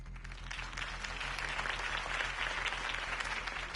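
A crowd at a Harvey Dent campaign rally in the Batman Telltale video game applauds after his speech, a steady, moderately distant wash of clapping lasting the whole moment over a low hum.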